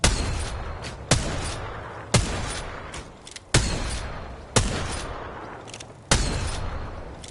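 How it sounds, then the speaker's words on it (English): Apex Legends gunfire: six loud, sharp shots spaced about a second apart, each with a decaying tail, fired near and alone with no talk. "I'm shooting her."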